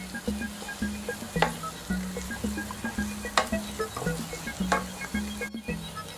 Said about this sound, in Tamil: குடமிளகா நல்லா வதங்குற வரைக்கும் மிக்ஸ் பண்ணிக்கலாம்.